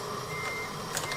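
A truck in Euro Truck Simulator 2 gives steady, evenly spaced reversing beeps over a constant engine drone.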